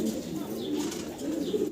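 Two pigeons in a loft coo close by, low throaty warbling calls that run on continuously over faint background noise.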